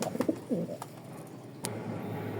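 Racer pigeons give a few short, close coos early on, followed by a quiet background hum with a couple of faint clicks.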